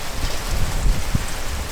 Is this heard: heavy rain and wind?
yes